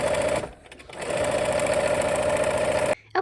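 Sewing machine running steadily as it stitches quilt fabric pieces without pins, a close, continuous mechanical whir with a brief slowdown near the start and a sudden stop just before the end.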